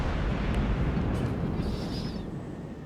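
Naval guns firing on a Yamato battleship during a World of Warships-style game, in a Des Moines cruiser, heard as a loud, continuous rumbling barrage of booms that fills the whole stretch.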